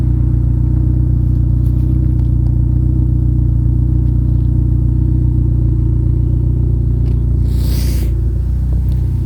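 Turbocharged car engine, newly reassembled after a meltdown, idles steadily and loud with a deep rumble and faint clatter, the only sound present, with a brief hiss near the end.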